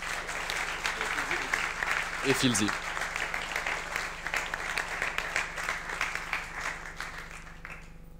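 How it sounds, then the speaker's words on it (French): Applause from an audience at a business event, a steady wash of clapping with a brief shout and a low electrical hum underneath, tapering off toward the end. "Je vous demande d'applaudir"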